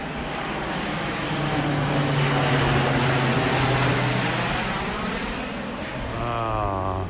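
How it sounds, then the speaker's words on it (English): An airplane approaching to land in Tokyo gives a broad, steady engine roar that swells and holds for several seconds, with a faint shifting tone near the end; no talk is heard over it. "Flight coming in."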